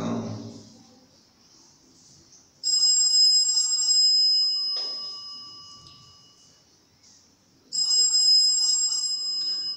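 A telephone rings in two bursts of a bright electronic trill, each fading away before the next, with quiet pauses between and no voices over it.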